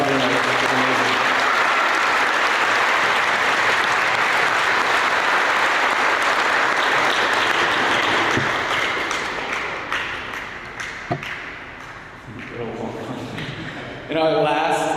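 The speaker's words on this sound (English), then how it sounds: "Just a round of applause for doing that." Sustained loud applause from the audience at an 8th grade school graduation ceremony, steady clapping for most of the span before thinning out, with a voice briefly speaking near the end.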